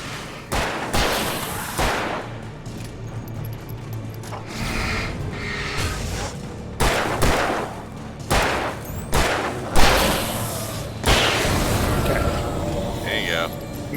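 Gunshots in a dark forest in the video game Alan Wake Remastered, a series of heavy booming blasts spaced irregularly every second or two, loud and close over a low ambient bed.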